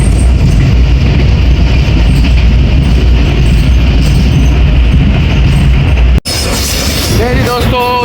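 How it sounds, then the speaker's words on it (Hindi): The 38 DN Baba Fareed Express rolling slowly through Jia Bagga, with a loud continuous rumble and rhythmic wheel clatter, cutting off sharply into squealing wheels and rattling carriage sounds near the end. "जिया बग्गा से पास थ्रू हो रही है ट्रेन"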